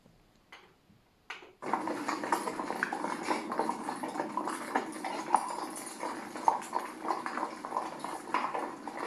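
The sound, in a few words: horse hooves clip-clopping on a horse ride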